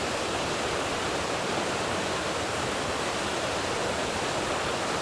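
Steady, dense rush of a waterfall pouring into a rocky basin, continuous broadband roar with no breaks, close and fairly loud, no voices.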